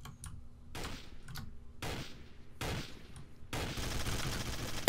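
Gunfire in the video game Trouble in Terrorist Town, several separate loud bursts of rapid shots with short quiet gaps between them, ending in one sharp blast.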